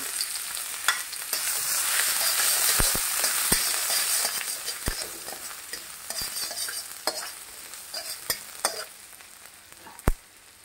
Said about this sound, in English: My pan is already hot. We'll add oil. Ginger, garlic.